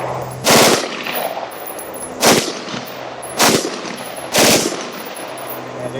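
Four loud, sharp rifle shots from an IWI Tavor X95 Micro ring out at an outdoor range, spaced about a second apart, each with a short echoing tail.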